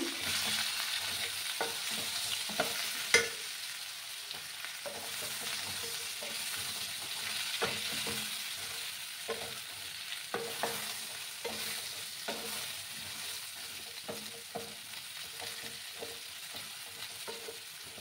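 Turmeric being stirred into ridge gourd and potatoes frying in a pan: a continuous sizzle with repeated scraping and clacking of a spoon, close and steady, no talking.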